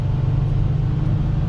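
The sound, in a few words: 2019 Audi Q7 accelerating, quattro all-wheel drive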